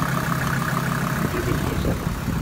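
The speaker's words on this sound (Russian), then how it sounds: "Слышите, как моторчик тихо работает." A small motor on a Zhytomyr vehicle built for deep snow idles quietly and evenly, a continuous low rumble with no voices.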